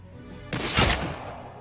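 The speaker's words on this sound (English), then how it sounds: "We'll just take some pistol pot shots." A pistol shot goes off in the video game Shadowrun Dragonfall, a single sharp report landing mid-clip above a quiet background and fading out with a short tail.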